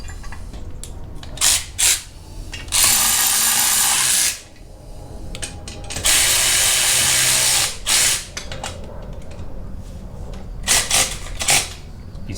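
Bolts tightened on a Harbor Freight manual tire changer, two sustained bursts of a power tool whirring for over a second each, with scattered clicks, clanks and handling knocks of metal between them, close up.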